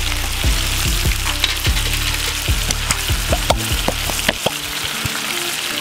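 Spicy beef and vegetables stir-fry with oyster sauce sizzles loudly in a hot pan, a steady frying hiss broken by the clatter and scrape of stirring.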